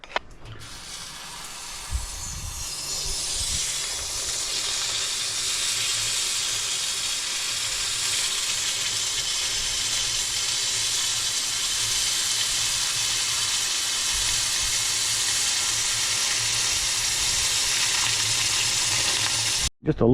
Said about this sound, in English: All right, let's drop that thing in the water.